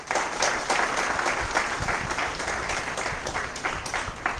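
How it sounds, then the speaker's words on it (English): Guests at an inaugural session applaud MBA students in a full, sustained round of clapping that stays loud and even for several seconds. "I think they need a special round of applause."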